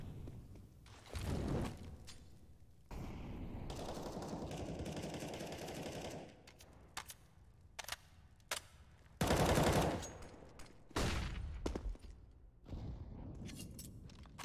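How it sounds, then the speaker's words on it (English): Rapid bursts of automatic rifle fire and grenade blasts from a Counter-Strike match on the Mirage map, loud and close, in repeated volleys separated by short gaps and sharp single shots. "Nice nades to begin things off from Leaf as well."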